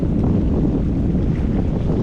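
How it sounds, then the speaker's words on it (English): Strong wind sweeps across a Boundary Waters lake during a canoe trip, a steady low roar buffeting the microphone throughout with no voices. "it's so windy, it's just blowing around."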